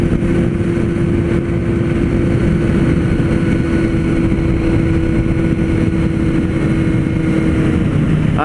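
A Kawasaki Z900 motorcycle without fairing pulls hard, its engine holding a loud, steady high-revving drone close by throughout, with wind rush mixed in.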